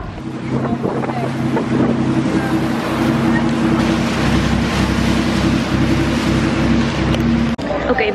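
A water taxi crosses the harbour in Rotterdam toward the SS Rotterdam, its engine a steady loud drone mixed with wind buffeting the microphone and water rushing past, continuous for the whole stretch with faint voices underneath.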